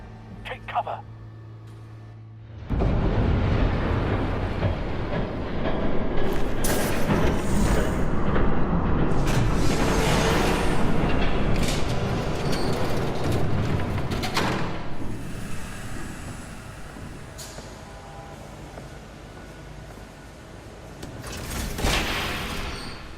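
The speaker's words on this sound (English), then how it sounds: "There's a train coming. Take cover." A train approaching in the Batman Telltale Series video game: a heavy, broadband rumble kicks in abruptly after a quiet start, holds loud and sustained, then eases slightly before swelling again near the end.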